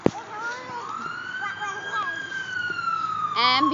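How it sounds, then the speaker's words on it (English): A wailing ambulance siren rises and falls steadily in the distance, heard from beside a swimming pool, sustained throughout with faint background activity. "Ambulance."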